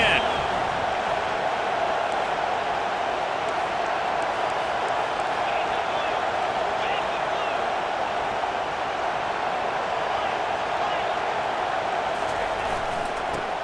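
A roar from a packed football stadium crowd at an NC State versus Louisville game forms a dense, sustained wash of noise that stays steady throughout, with an announcer talking over it.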